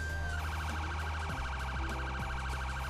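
A video game emergency vehicle siren, mounted on a civilian truck in GTA 5, wails in a rapid repeating yelp pattern, loud and close, with engine rumble beneath and no talking.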